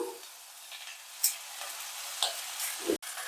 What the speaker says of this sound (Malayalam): നമ്മൾ ഒതുക്കി വെച്ചിരിക്കുന്ന അരപ്പിട്ട് കൊടുക്കാം ചെറുതായിട്ടൊന്ന് മൂപ്പിക്കാവേ